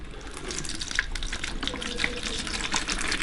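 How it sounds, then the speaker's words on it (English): Water from a fish bag pouring steadily into a bucket, a continuous close splashing gush with a few brief drips standing out. "So I'm going to start pouring the water"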